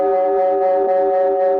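Ambulance siren used as a radio drama sound effect: a sustained, loud wailing tone with strong harmonics, held steady and alone, without talk.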